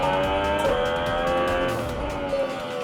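A Formula 1 car at Sepang for the Malaysian GP accelerates out of a corner, its high engine note loud and continuous and rising in pitch as it powers through.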